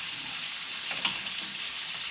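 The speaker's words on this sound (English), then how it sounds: "Get it all stirred around so it all gets some grease on it." Food being stirred as it fries in grease, giving a steady, fairly quiet sizzle with one brief scraping stir near the middle; no one speaks.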